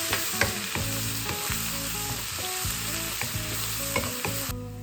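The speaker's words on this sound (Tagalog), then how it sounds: "Isutay lang din natin hanggang mag-golden brown." Finely chopped garlic sautéing in oil for chicken adobo, with a continuous close sizzle and repeated rhythmic scrapes and clinks of a spatula stirring in the pan.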